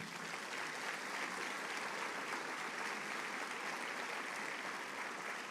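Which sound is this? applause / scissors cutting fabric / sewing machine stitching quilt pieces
applause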